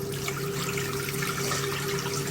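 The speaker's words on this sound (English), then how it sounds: "That will drain the remaining water out" Water pouring steadily from the drain hose of a 1958 Hotpoint Empress wringer washing machine, a continuous close rushing flow with a steady low motor hum beneath it, no voices.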